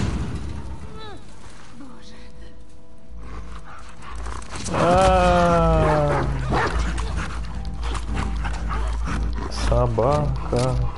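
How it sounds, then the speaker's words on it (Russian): A dog barks and growls aggressively in The Last of Us Part II, with snarling bursts up close and game combat noise, while a person talks over parts of it. "Собака."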